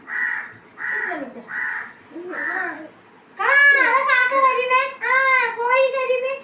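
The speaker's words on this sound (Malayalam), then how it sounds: "പക്ഷികളെല്ലാം കരിയുന്നുണ്ട്" Crows caw repeatedly on a morning near a home garden, with short calls at first and then louder, overlapping harsh caws in a quick run.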